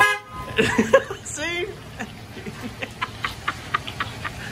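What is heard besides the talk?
truck horn honking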